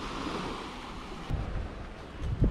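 Sea waves beside a rocky shore on Polillo Island, Quezon: a continuous rushing wash of surf mixed with wind buffeting the microphone, fairly loud and close, with a slight surge near the end.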